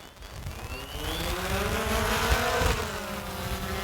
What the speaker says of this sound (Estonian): Mootorite käivitamiseks ma lihtsalt vajutan 2 kangi alla, nüüd on mootorid käivitunud.